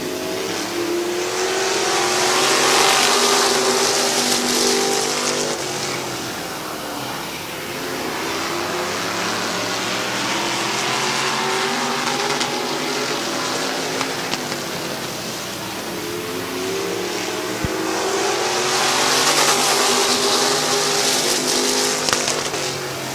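Race cars roar around Midvale Speedway in a live event, engines swelling loudly as the pack passes, fading to a steady distant drone mid-lap, then surging again as they come back around.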